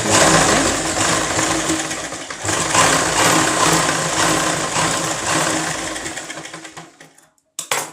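A sewing machine stitches fabric, its loud, close, rapid mechanical chatter running continuously for several seconds with brief slowdowns, then stopping near the end.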